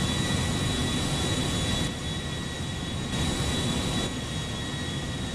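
Jumbo jet airliner flying in GTA V, a loud, steady engine roar and rush that holds throughout, with slight level shifts and no talk.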